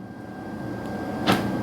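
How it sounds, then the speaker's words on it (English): Door locks on a 2015 Acura MDX actuate via the factory remote, a single short mechanical clunk close by against a steady low hum. "Now the remotes lock the doors"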